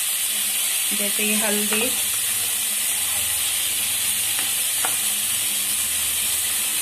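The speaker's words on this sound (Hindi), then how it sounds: "तो देख सकते हैं गोभी हमारा फ्राई हो रहा है" Cauliflower frying in a pan, a loud steady sizzle and hiss throughout while a voice talks briefly over it and a couple of light stirring clinks.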